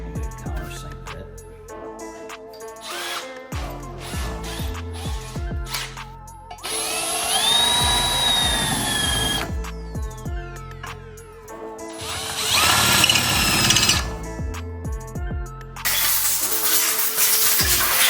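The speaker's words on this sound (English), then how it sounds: "Countersink bit." Countersink bit drilling a Honda TRX450 right-hand crankcase, with power-drill bursts of whining, grinding cutting separated by pauses, clicks and rattles, loudest in three longer runs.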